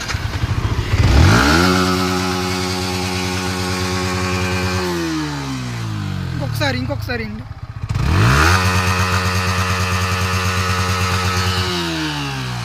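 Yamaha MT-15 motorcycle engine starting and idling loudly up close, with a steady throb, then cut off briefly and restarted with a rising rev before settling back to idle; someone speaks briefly partway through.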